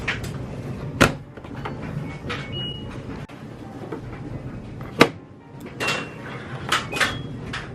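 Dirty clothes go into a washing machine at home, with a few sharp thumps and knocks from the machine door and handling over soft shuffling and rustling.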